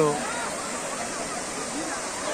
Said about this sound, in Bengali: এই প্রথম বৃষ্টি হওয়ার ফলে মায়াবী ঝর্ণাতে নতুন আঙ্গিকে ঝর্ণায় পানির প্রবাহ বইছে